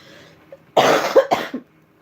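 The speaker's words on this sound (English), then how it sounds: "I'm gonna cough" A couple of harsh, close coughs in quick succession, loud against a quiet room, then silence.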